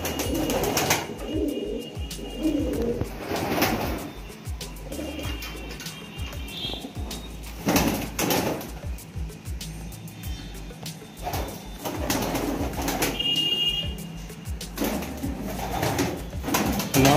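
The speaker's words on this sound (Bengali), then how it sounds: "নরমাল পায়রা থেকে এটা অনেক বড়" King pigeons in a pigeon house coo repeatedly, low throaty calls recurring in bursts over a faint background, with occasional rustles and knocks nearby.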